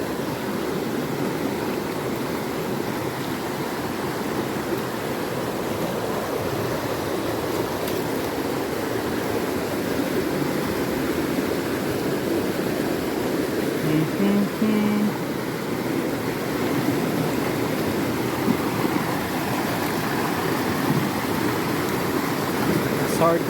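River water current flows steadily at close range, a broad continuous rushing wash with no breaks, as if wading in the stream itself.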